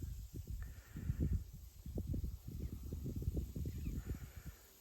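Crows caw from a shisham tree on a farm field, harsh calls repeating in quick overlapping bursts at moderate distance over a light breeze, no talking.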